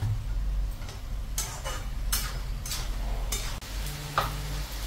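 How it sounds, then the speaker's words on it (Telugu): A spoon stirs ridge gourd curry with chopped tomatoes in a pan, giving several distinct scraping strokes and light taps over a steady low sizzle, close and fairly clear with no talking. "వేసి బాగా కలుపుకోవాలి."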